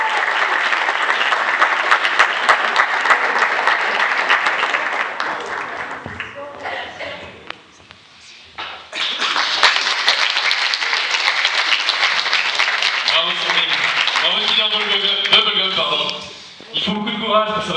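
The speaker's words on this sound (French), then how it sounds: "On peut encore applaudir, bravo." Loud audience applause after a singing performance of a cover song, a dense sustained clapping wash that briefly dips around the midpoint and then swells again, with voices and music-like tones mixed in near the end.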